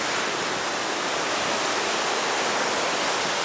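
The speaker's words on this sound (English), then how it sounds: "do the waves here in Kitty Hawk, Kill Devil Hills, do they seem a little bit stronger?" Ocean surf along the beach at Kitty Hawk on North Carolina's Outer Banks, a steady, dense roar of breaking waves heard close and loud without pause or voices.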